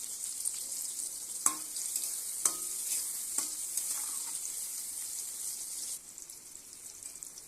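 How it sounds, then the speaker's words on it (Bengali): Eggplant pieces frying in hot oil in a heated wok, a bright, even sizzle with several sharp spatula clanks against the pan, quieter toward the end. "এখানে কড়াইটা গরম হয়ে গেছে এখন বেগুনটা ভেজে নেব"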